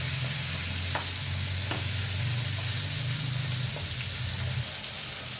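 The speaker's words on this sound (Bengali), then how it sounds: "এখন আমরা মাছগুলোকে এক এক করে উল্টে পাল্টে মাছগুলিকে আমরা ভেজে নিই।" Pabda fish frying in a pan give a continuous sizzle with a low bubbling undertone and a few light clinks as pieces are turned, close and steady.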